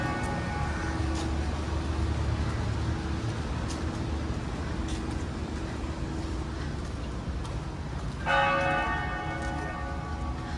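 Church bells ring across the Savannah historic district, tolling faintly and at a distance over steady traffic hum and outdoor ambience, with one fuller bell strike standing out near the end.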